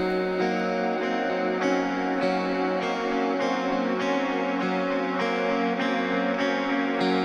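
Subtle half-note syncopated delay effect on the right channel, echoing a sustained, shimmering electronic mix with regular rhythmic pulses roughly every two-thirds of a second, steady and continuous with no voices.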